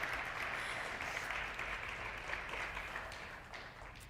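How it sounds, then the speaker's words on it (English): Steady audience applause fills the room at a TEDx women's event, a continuous wash of clapping at moderate distance that fades slightly toward the end, with no talking. "Let's hear a round of applause."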